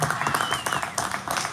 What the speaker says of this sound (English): Y'all give that little girl a round of applause right there